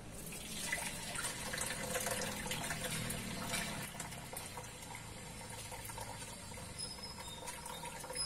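Water pours steadily into a container, filling one litre with a continuous splashing rush; the sound is quiet and close, with no talk.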